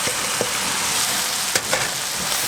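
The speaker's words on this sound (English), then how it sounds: "You want to stir that a little bit" Soaked rice is stirred in a hot pot for Somali rice, giving a close, steady sizzle broken by a few short scraping strokes of the spoon.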